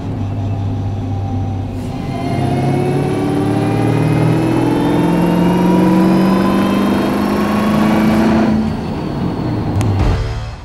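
A Land Rover Defender's engine revs under throttle, climbing in a loud whirring rise from inside the vehicle, holding high, then easing off near the end. No voices are heard.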